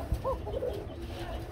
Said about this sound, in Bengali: দেখতে পাচ্ছেন বন্ধুরা এটা হচ্ছে কোকা কবুতর।